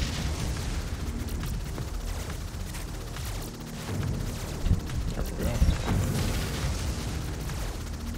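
Turrets get blown up in the sci-fi video game Subverse, producing dense rumbling blasts and mechanical booms that churn continuously and loudly, with a few sharper explosive thumps standing out midway.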